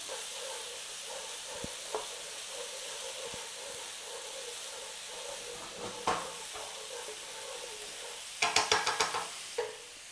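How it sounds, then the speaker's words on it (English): Garlic fries in a pan with a soft, steady sizzle and hiss, scattered clicks of a utensil, then a quick burst of scraping and tapping as it is stirred near the end. "we are going in this pan with 2 tablespoons of garlic. Give it a whiz round."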